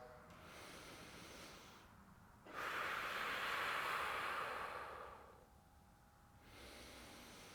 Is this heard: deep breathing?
yes